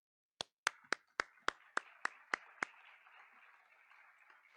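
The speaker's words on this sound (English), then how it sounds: "Please give him a round of applause." Nine sharp, evenly spaced claps ring out at a ROTC commissioning ceremony, crisp and echoing, then trail off into a faint reverberant wash of scattered applause.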